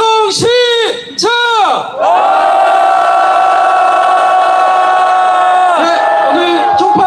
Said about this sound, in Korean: 힘찬 함성 시작!